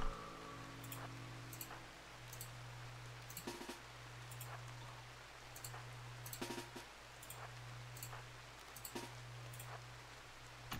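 Steady soft rain hiss fills a RimWorld game scene, with a constant low hum underneath and scattered faint taps and clicks throughout.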